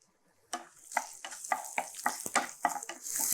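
Garlic and dried red chilies are dry-roasted without oil in a pan, heard as quiet, rhythmic scraping strokes of a spatula that start after a brief silence and repeat about twice a second.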